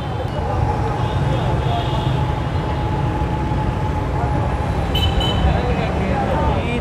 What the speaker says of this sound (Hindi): यहाँ पर बड़ी हैवी ट्रैफिक है